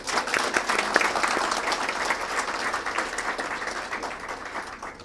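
A hall audience gives a round of applause to welcome a government science and technology minister at a biosciences PhD programme event; dense, continuous clapping that starts strong and gradually fades.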